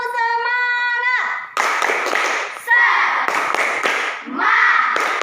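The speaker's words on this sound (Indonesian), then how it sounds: "Tepuk semangat." A school class joins in a rhythmic spirit clap, a run of sharp hand claps in bursts with children's voices mixed in, after a brief sustained sung or chanted tone opens the passage.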